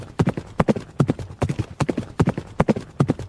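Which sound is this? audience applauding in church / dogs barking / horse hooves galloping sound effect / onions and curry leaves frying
horse hooves galloping sound effect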